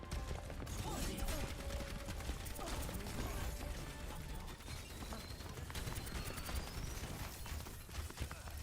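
A weapon reload in Overwatch 2 brings quick mechanical clicks and ratcheting clatter. They sit inside a busy, dense mix of game effects and gunfire, with no speech.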